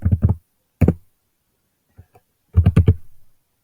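Typing on a computer keyboard in short clustered bursts of clicks separated by pauses, close and fairly loud with no talking.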